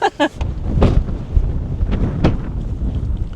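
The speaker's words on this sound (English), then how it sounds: "Let's experience some of this wind." Strong wind roars and buffets the microphone in loud gusts in Stanley, Falkland Islands, a low rumbling rush throughout, with a brief voice at the start.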